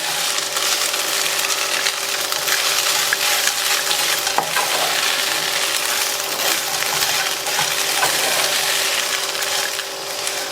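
A spoon stirs a salted kara kolukattai filling in a hot pan, making a steady, loud sizzle with scattered scraping clinks and no one speaking.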